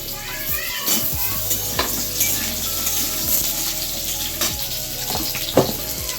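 Vegetables frying loudly in a pan for a vegetarian spinach dish with kohlrabi, eggplant, potato, beans and chili, a steady sizzle broken by stirring clatters and utensil knocks.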